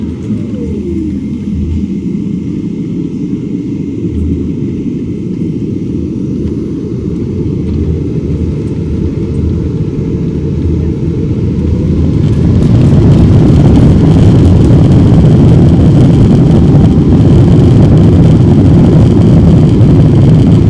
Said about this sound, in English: For now, we'll taxi out and we'll get on our way to London.